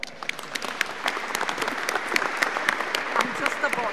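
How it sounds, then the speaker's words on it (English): Audience at an award ceremony breaks into applause, a lively clatter of many hands with sharp individual claps standing out, close and fairly loud, with a voice speaking over it at times. "So, applause for it."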